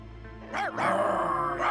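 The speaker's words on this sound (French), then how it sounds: "Priscilla, je crois que tu ferais mieux de calmer cette machine à aboyer." A cartoon dog in an animated children's show gives a couple of short, loud barks, one sharp yelp followed by a longer bark, close up with no talking over them.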